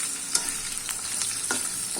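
Chopped onion with bay leaves, cardamom and cloves frying in oil in a pan, giving a steady soft sizzle with a few light scrapes of stirring, close and even throughout, with no voices.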